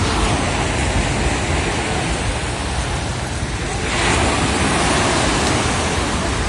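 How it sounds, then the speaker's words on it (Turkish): Sea waves wash steadily onto Konyaaltı beach in Antalya, Türkiye, a loud, continuous rushing surf that swells slightly partway through, with no voices. "Deniz sesini seviyorum."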